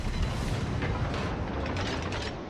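A warship's guns fire in the naval battle game World of Warships, a deep booming blast that swells into a dense rumbling roar with mechanical clatter, loud and close.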